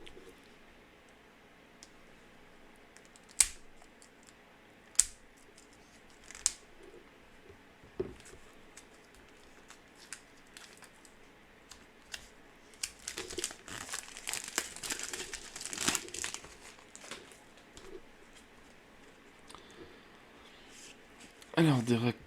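Warhammer Quest game cards being handled and shuffled: scattered crisp card taps and snaps early on, then a dense run of riffling, crinkling card noise in the second half, close by.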